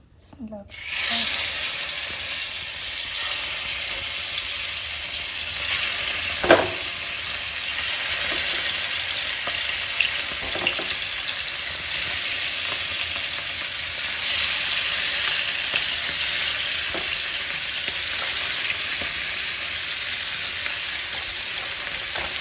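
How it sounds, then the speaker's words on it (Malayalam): Fish sizzling in hot oil in a home kitchen pan, a constant crackling hiss lasting the whole stretch with a few sharper pops and spatters. "അപ്പം അത് എണ്ണയൊക്കെ ചൂടായിന് നമുക്ക് മീനിട്ട് കൊടുക്കാം."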